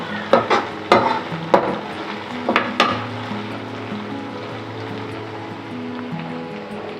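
A spoon scrapes and clatters several times in a pan of soft tomatoes and spices frying in oil for Tamil-style chicken masala, then gives way to a faint, steady sizzle.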